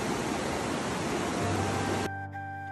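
Steady rushing water of a river flowing beside a restaurant near Rila Monastery in Bulgaria, a loud continuous broadband wash that cuts off abruptly near the end, leaving a quiet hum.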